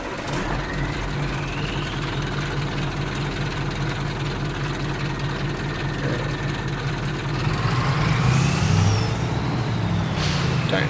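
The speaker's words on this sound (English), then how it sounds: "And we'll start the truck for the first time." A truck in Farming Simulator 22 starts and settles into a low diesel idle, with a steady rumble that swells louder near the end, a faint hiss over it.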